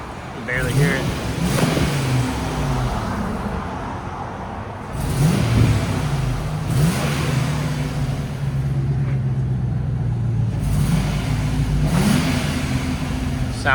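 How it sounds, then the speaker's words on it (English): A stock 2007 Lexus GX 470 with its 4.7-liter V8 revs up in several bursts, each climb rising and falling over a steady idle, fairly muted and close by. "got a 2007 Lexus GX 470 V8. This is stock before."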